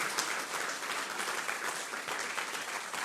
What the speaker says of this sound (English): Round of applause for Calin.